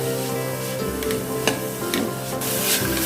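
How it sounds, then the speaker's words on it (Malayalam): Sliced onion sautéing in oil with a spoonful of garlic-ginger paste for a cauliflower masala curry, a soft close sizzle with occasional stirring scrapes and clinks, steady and without speech. "നമ്മൾ കുറച്ച് ഓയിൽ ഒഴിച്ചിട്ട് വെളുത്തുള്ളി ഇഞ്ചി പേസ്റ്റ് ആക്കിയാണ് 1 സ്പൂൺ ഇട്ടിട്ടുണ്ട്. ഇനി നമുക്ക് ഇതിൽ ഇനി കുറച്ച് സവോള ഇട്ട് നമുക്ക് വഴറ്റിയെടുക്കാം"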